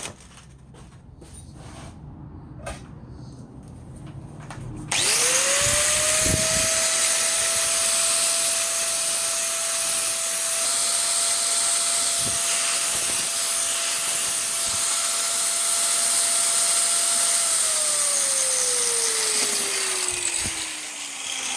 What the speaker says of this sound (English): I'm going to put an edge on that with a grinder.